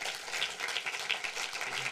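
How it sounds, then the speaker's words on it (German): Audience applause welcomes film director Lars Kraume at a film discussion event, a fairly soft, even patter of many hands clapping at some distance, with no voices on top. "Schon mal großen Applaus, dass er da ist, Lars Kraume"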